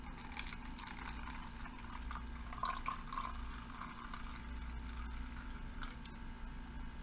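Rockstar Organic energy drink, a very carbonated beverage, poured into a cup: a soft, faint liquid trickle with light fizzing splashes over a low background hum.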